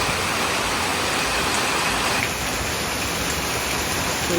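Heavy monsoon rain in the Konkan pours down in a dense, unbroken roar of close, loud hiss that holds steady throughout.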